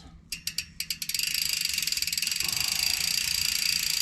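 Short bursts of spray from a cleaner bottle wetting a mountain bike chain, several quick pumps followed by a continuous hiss, close and fairly quiet.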